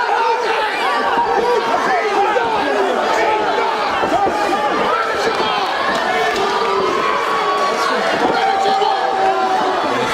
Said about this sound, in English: fans continue to push and applaud for Luke Hawx as he goes to the top of the ladder